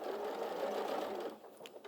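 An Elna 680+ sewing machine stitches steadily across a nylon zip, its needle whirring in a fast even rhythm that eases off near the end, close and clear with no talk.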